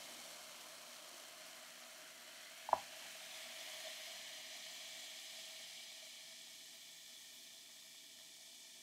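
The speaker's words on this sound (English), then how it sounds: "The vinegar and baking soda are reacting together." Vinegar and baking soda fizz in a glass, a soft, steady hiss fading slowly, with one brief sharp tap partway through and no voices.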